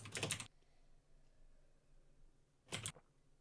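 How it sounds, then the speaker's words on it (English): A keyboard is typed on in two short, clattering bursts near the start and near the end, separated by a quiet stretch of faint room hum. "someone is typing"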